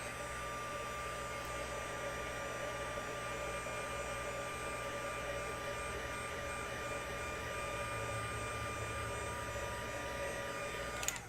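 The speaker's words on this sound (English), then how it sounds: "Let me hit him with the heat gun just in case." Heat gun blowing hot air over freshly stamped craft ink, a steady, even electric whoosh with a constant hum, running alone and unbroken for the whole stretch.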